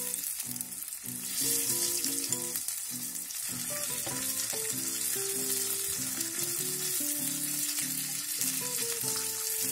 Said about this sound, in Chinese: 直接用一只小砂锅，放一丁点油， 虾仁先走一下